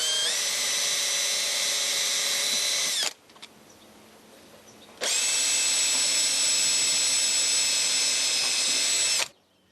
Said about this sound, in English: I'm just going to pre-drill the screw holes that we need